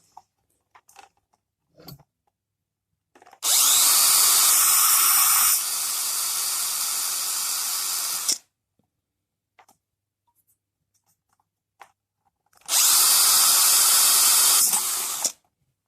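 An electric screwdriver drills a hole into a Sanyo clock radio case, giving two loud, sustained whirring bursts of several seconds each, separated by quiet moments with small clicks and handling noises.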